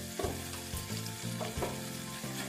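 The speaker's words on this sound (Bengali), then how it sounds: "এবার এর মধ্যে আমি একটু এক চামচ জিরে গুঁড়ো দিয়ে দিলাম।" A spoonful of ground cumin dropped into spice paste frying for a Bengali chhana dalna, a dense steady sizzle with soft rhythmic stirring knocks, close and without talk.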